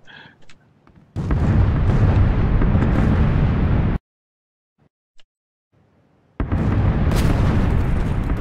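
Bombing explosions in PUBG, two loud, long booming blasts close by, each a dense rumble lasting a few seconds, separated by near silence with a faint pop between them.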